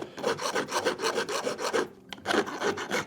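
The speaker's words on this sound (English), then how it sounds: "I have a little Nichols file here, bastard file." A Nichols bastard file rasps across a painted steel piano hinge in steady, rhythmic back-and-forth strokes, close and fairly loud, with a brief pause before the strokes resume.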